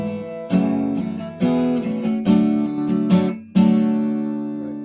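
Acoustic guitar strumming a descending chord walk down for a song lesson, five separate strummed chords, each ringing out before the next, the last sustained and fading.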